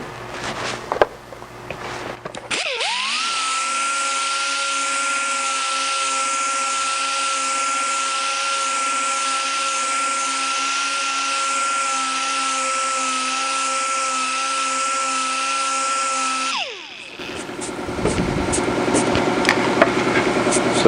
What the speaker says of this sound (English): I can follow it up with the orbital sander. This little detail orbital sander with 120 also.